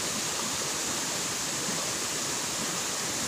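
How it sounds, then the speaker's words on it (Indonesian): Fast-flowing river water rushing in a steady, loud, dense wash close by, continuous with no breaks and no talk. "Woi, kencangnya airnya."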